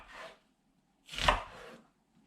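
A knife chopping an onion into rough, large pieces on a board, two distinct close chops separated by a short pause, with the second blow louder and trailing into a brief scrape.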